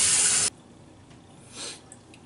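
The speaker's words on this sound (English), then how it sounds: "I'm going to go rinse the face, wet the face, and I'll be right back for the third pass." Bathroom tap running as water rinses a face between passes of a traditional wet shave, a loud gush for half a second that cuts off, then a quiet room with faint splashes.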